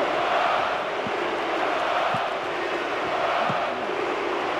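Stadium crowd in the football video game PES 2009 during Portugal versus Turkey, a constant roaring wash of massed voices with a few brief low thuds breaking through, loud and unbroken throughout.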